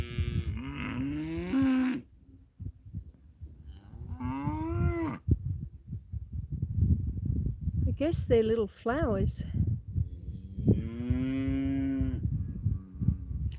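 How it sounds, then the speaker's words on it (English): Cattle on a homestead moo several times, with long, loud, drawn-out calls from nearby, and a person talks in between the calls. "Yeah, the cows. They are definitely saying hello"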